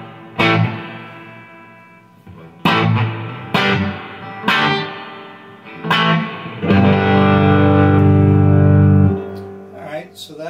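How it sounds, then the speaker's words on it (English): Electric guitar through an Ironhorse Heritage 1x12 combo amplifier in fawn tolex with a WGS ET65 speaker and reverb set moderately, a few struck chords ringing out with decaying reverb tails, then a longer sustained chord, close and clear. "Great sound of reverb."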